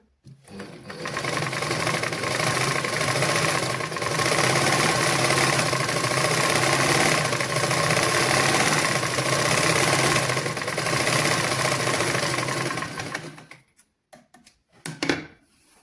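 A sewing machine stitches two pieces of folded cloth in one long, steady, close run of rapid needle clatter, then stops abruptly, leaving a few small clicks.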